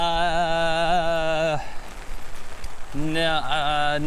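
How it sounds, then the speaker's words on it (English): Steady rain hiss runs throughout, partly covered by a loud, sustained tonal hum at the start and again near the end. "Lovely rain sounds."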